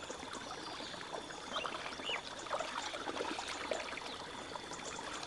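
River water flows and trickles in a children's book app game, a soft steady babble with faint bubbling and light splashes, fairly quiet and continuous without voices.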